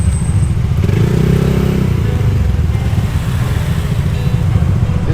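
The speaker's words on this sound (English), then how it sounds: "Another motorcycle gang." A group of motorcycles from a Manila riding crew passes on the road, a dense, continuous engine roar that stays loud and steady throughout, with a slight swell early on.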